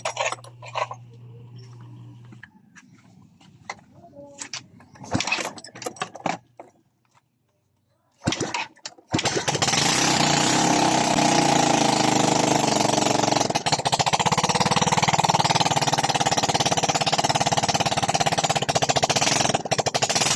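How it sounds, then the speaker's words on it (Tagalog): A Yamaha Mio Sporty scooter with a stock-up engine that ran out of oil is kicked over after a quiet stretch of faint knocks, then its engine catches and runs loudly and steadily for the remaining ten seconds. "iuna natin ang kanyang susi at pandarin natin ang kanyang motor"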